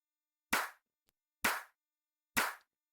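Three crisp, dry clap drum hits from a sample pack, evenly spaced about a second apart, each a sharp bright snap with a short tail and silence between.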